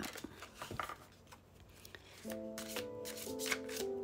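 A tarot deck is shuffled with a few soft, papery riffles and taps, and a card is drawn; steady background music comes in partway through and plays under the card sounds.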